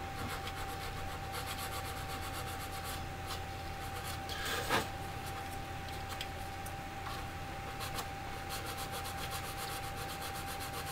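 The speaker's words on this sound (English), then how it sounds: "we're just going to cut them to a nice smooth side, just to polish that up a little bit" A plastic part of a 1/48 Academy Su-27UB Flanker model aircraft is sanded and polished with steady, faint, rhythmic rubbing strokes close up, and one brief louder scrape partway through.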